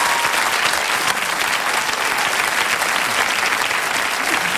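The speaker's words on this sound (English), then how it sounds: "Big round of applause for Dan." Steady, loud applause from a large studio audience at a TV comedy panel show fills the whole stretch, dense clapping without pause or voices.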